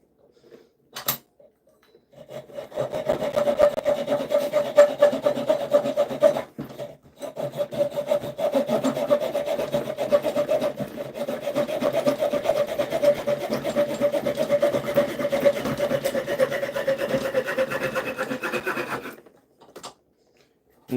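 Hand saw cutting through a piece of wood clamped in a vise during bushcraft rigging work, a steady rhythmic rasping of back-and-forth strokes that runs close and loud for about sixteen seconds after a brief pause, with no talking.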